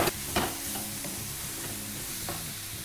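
Garlic, ginger, chili, peppers, sugar snaps and mushrooms sizzle steadily in a hot pan, a constant crackling hiss with occasional stirring scrapes, close and fairly loud.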